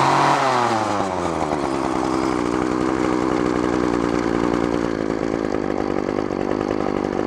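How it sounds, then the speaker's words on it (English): Craftsman string trimmer pulled from a free pile, its small two-stroke engine idling with a steady buzzing putter after a brief settling at the start, close and fairly loud throughout with no voices. "trying to get the idle speed down so that the head's not spinning when you let off"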